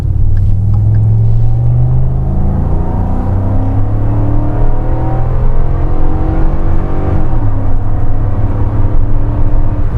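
A Ford truck engine, either a 2020 EcoBoost or a 2014 5-liter, pulling up to speed: loud in-cab rumble with rising harmonic tones as it accelerates, a shift near the seven-second mark, then continued climbing drone.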